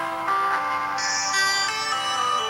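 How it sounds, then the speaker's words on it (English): A phone rings with a continuous melodic electronic tone that steps through shifting pitches, loud and close, with no speech over it. "excuse me, the phone's going."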